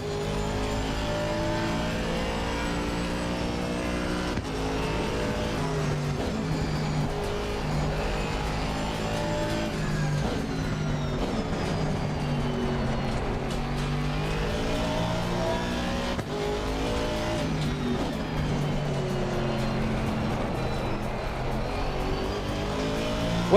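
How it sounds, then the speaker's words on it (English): Aston Martin V8 Vantage GT3 race car driven in a racing video game, its engine droning steadily and loud throughout with rising and falling revs through gear changes, alone without talk. "It's the Aston Martin V8 Vantage GT3. This is what I'm driving in terms of the game."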